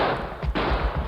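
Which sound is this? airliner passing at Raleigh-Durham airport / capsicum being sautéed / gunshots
gunshots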